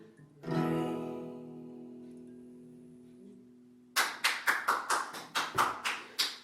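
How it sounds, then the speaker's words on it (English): In the game Her Story, a sustained tonal chord fades out, then a burst of crisp, rapid clapping with sharp rhythmic hits fills the last few seconds. "Yay, they're clapping for the murderer."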